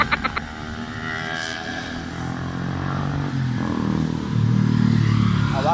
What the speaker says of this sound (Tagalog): Hirang motor yan, napakaingay.